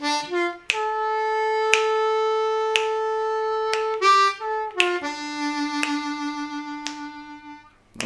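C harmonica plays a slow St. James Infirmary blues phrase with bent notes, long held tones joined by quick bends and a few sharp note changes, up close with no talk.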